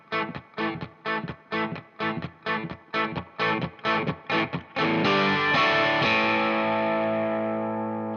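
Electric guitar with a distorted tone playing a three-chord song intro: a run of about a dozen evenly spaced chord stabs, then one full chord left ringing and slowly fading, loud and alone.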